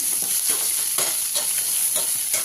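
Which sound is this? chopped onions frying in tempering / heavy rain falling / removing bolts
chopped onions frying in tempering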